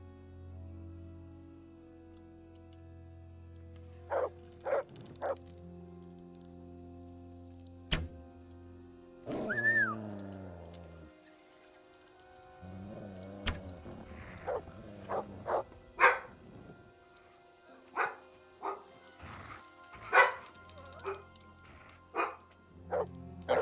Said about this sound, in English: now my dog's hearing the dog in here